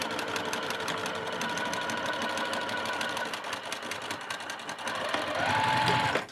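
Sewing machine stitching a quarter-inch seam around the neckline of a vest, a steady fast whirring hum throughout that rises slightly and ends abruptly, with no talking.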